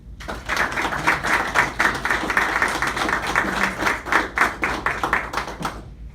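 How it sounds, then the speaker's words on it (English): A small group claps together for several seconds at a firefighter graduation, steady and fairly close, then the applause quickly stops. "the recruits need to give you guys a round of applause"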